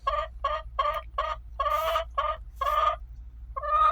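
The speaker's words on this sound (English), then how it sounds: "you still will have your chickens laying in one particular area" Hens cluck close by in a coop while laying eggs, a rhythmic run of about eight loud, evenly spaced calls with a short pause before another starts, over a low hum.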